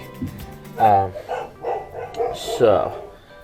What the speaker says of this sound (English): my pups all go crazy upstairs because they heard somebody outside, or possibly a squirrel